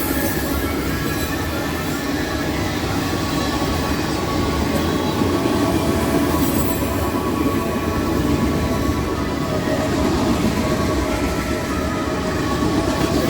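A freight train hauling vinyl chloride tank cars rolls past nearby, a loud, sustained rumble of wheels and rail noise with faint clicking, steady from start to finish.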